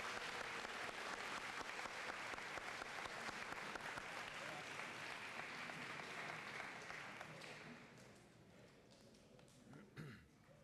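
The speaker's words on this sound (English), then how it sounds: "Let's give all these students a round of applause." A school audience applauds students at a high school fine arts festival, a dense sustained ovation of many hands that holds strong for several seconds, then thins and fades out with a few scattered claps and murmurs.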